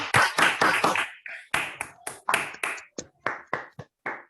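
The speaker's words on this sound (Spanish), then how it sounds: "¿Hacemos el aplauso desmuteado?" Scattered, uneven claps from a few participants in an online video meeting, coming in separate bursts with gaps and clipped edges as microphones open and close.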